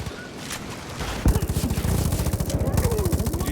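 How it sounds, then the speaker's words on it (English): Sustained rapid automatic gunfire rattles loudly in the Far Cry New Dawn video game, starting after a brief lead-in and continuing as a dense, even stream of shots to the end. "Could you stop shooting me while I'm underwater"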